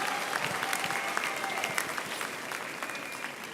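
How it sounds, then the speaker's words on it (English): Audience applause for the choir at a university graduation ceremony, with a steady, dense round of clapping from a large crowd that continues evenly at moderate loudness throughout. "give them another round of applause to the choir"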